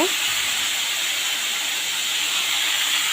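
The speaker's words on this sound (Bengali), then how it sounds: "এবার আগে থেকে নুন হলুদ মাখিয়ে রাখা লোটে মাছগুলো তেলের ওপরে দিয়ে দিচ্ছি" Salted, turmeric-coated Bombay duck fish hit hot oil, producing a loud, continuous, even hiss like steam, close up and unbroken for the whole span.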